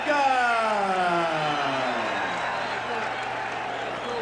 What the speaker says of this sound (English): It's quite an amazing sight to see people standing on their feet and cheering an Irishman in the middle of the Nevada desert